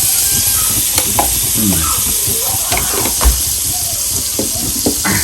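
Butter and oil sizzle in a pan for homemade popcorn, a steady bright hiss with faint scraping stirs and small clicks, close up and continuous.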